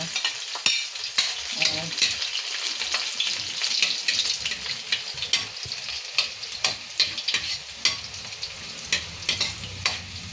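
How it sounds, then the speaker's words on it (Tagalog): Garlic sautéing in a hot pan, a bright continuous sizzle with repeated utensil scrapes and clinks close up, and a brief spoken word near the start. "so magigisa na ako ng bawang muna"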